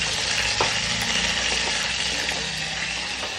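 Dal tempering frying in a pan while a spoon stirs it, giving a loud, steady, hissing sizzle throughout with a few faint spoon scrapes and clicks.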